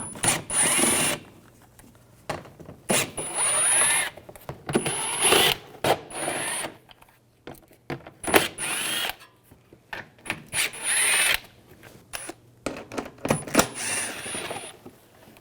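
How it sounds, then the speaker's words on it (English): A ratchet with an 8mm socket backs screws out of a 2006-2010 BMW 550i during grille replacement, with repeated short mechanical whirring bursts, close and fairly loud, separated by quiet pauses. "We're going to take these screws out. Use a 8mm socket."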